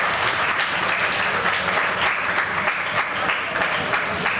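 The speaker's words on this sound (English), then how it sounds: "let's give a round of applause just to welcome them here to Ireland." Audience applause welcoming visiting students from Hungary at an apprentice chef workshop in Ireland, a dense, steady roar of many hands clapping throughout, loud and continuous with no pauses.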